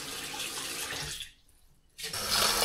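Running tap water pours steadily over wheat groats in a colander, cuts out briefly in the middle, then resumes splashing, close and alone.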